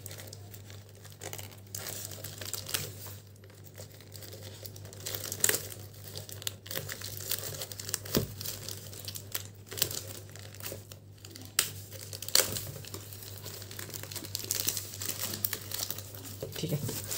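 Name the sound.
tearing open a plastic packet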